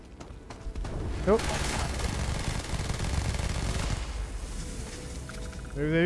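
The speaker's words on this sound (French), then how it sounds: "Vous avez vu les balles comme elles partent?" Rapid automatic gunfire from the video game Starfield rattles out in a sustained burst of close shots over game background noise, and a voice speaks briefly.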